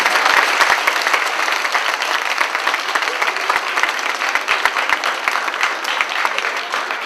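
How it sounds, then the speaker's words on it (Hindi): Dense applause from an audience at a church gathering honoring three brothers, a steady sustained clatter of many hands clapping for several seconds without letting up. "हम इन तीनों भाइयों के लिए जोर से ताली बजाते हैं"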